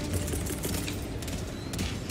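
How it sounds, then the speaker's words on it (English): Rapid autocannon fire in the video game Helldivers 2 during a battle against a bot drop, a dense, continuous burst of loud shots with heavy low-end boom filling the whole stretch. "I got an auto cannon down."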